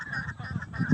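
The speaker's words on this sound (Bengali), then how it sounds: "দেখেন খুব সুন্দর গ্রামের নদীতে হাঁসগুলো" Ducks on a village river give a quick pair of nasal honking quacks, close and fairly clear, over faint background noise.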